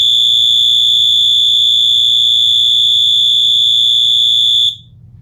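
A 12V alarm siren on a timed relay blares a loud, piercing steady electronic tone close by, then cuts off abruptly near the end, leaving a low hum.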